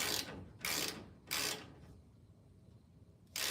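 Three loud, brief bursts of mechanical clicking from a tool loosening a bolt on a bicycle brake, each about a third of a second long, followed by a quiet pause and a fourth burst at the end.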